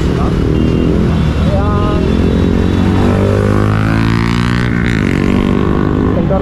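A TVS Ntorq scooter engine drones steadily while riding, loud and close with wind rush, a voice talking over it throughout.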